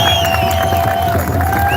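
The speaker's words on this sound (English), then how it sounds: "Give them a round of applause." A roadside crowd at a freedom convoy rally near the Osoyoos border crossing claps and cheers loudly and steadily under a blaring horn tone, with engine rumble beneath.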